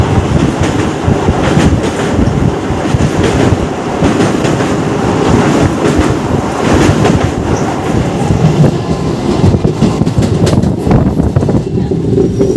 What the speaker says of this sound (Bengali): ট্রেন আমাদের নিউ জলপাইগুড়ি ঢুকছে।